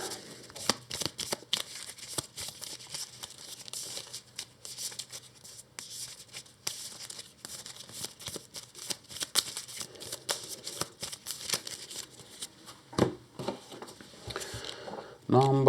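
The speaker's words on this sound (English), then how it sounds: "Okay, we'll shuffle these." A deck of game cards is shuffled by hand at close range, giving repeated crisp riffles and flicks in quick bursts, fairly faint, with a short voice near the end.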